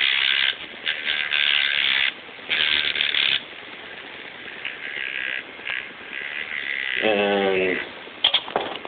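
A tattoo machine runs at 5 volts with a steady electric buzz that keeps going without bogging down, cutting out briefly a few times, with a short burst of voice partway through.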